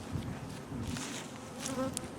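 Honey bees buzz continuously at close range during a hive inspection while colonies are being combined, a dense, steady droning hum with no talk.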